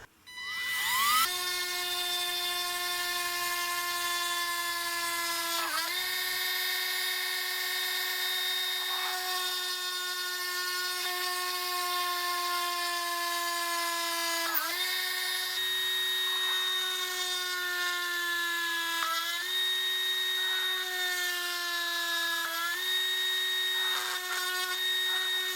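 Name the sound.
electric drill running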